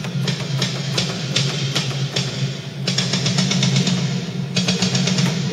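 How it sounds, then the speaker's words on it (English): Snare drum from a metal drum mix built with Steven Slate EX, heard through its reverb only: a steady run of sharp hits, each trailing into a dense wash, over a constant low hum. "the snare with the reverb only sounds like this."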